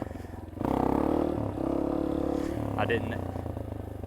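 A Yamaha XT250 dual-sport motorcycle engine holds a steady, throaty drone at about quarter throttle while the bike rides a wheelie, loud and close, and a voice talks over it.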